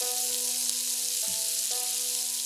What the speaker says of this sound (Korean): 이 기름에 구워지는 소리는 언제 들어도 맛있습니다.